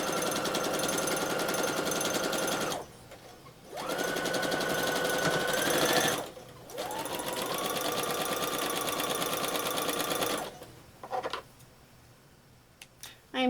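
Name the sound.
sewing machine stitching thin fabric for a quilt block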